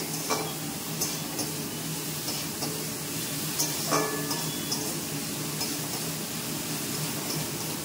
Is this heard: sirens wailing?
no